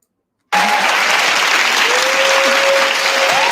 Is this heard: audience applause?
yes